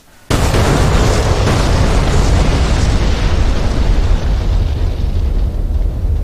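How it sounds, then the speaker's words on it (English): GBU-31/38 JDAM bombs dropped in a ripple from an FA-18C Hornet in DCS World explode after a sudden onset into a loud, sustained rumbling roar that slowly fades. "let's go and track the progress of those bombs. Stand by. Down they go."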